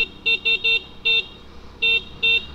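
Several short, thin beeps from the horn of a 2024 Yamaha Mio Fazzio scooter: three quick taps, then single toots after pauses, close and clear with no talk.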